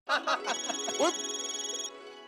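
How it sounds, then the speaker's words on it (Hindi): A phone ringtone plays: a bright electronic melody with quick pulsing notes, close and clear, ending in a sustained tone. "रोशन सिंह सोडी का फोन है, लगता है फ्लाइट में बैठ गया।"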